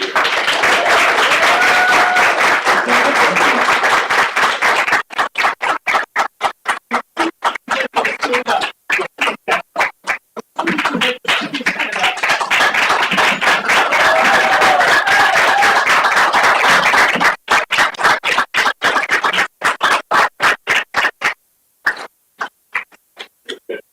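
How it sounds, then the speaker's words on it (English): Long, loud audience applause at the end of a student research presentation, dense continuous clapping that thins into scattered claps and briefly swells again before tapering off. "give a long, loving applause to all of our"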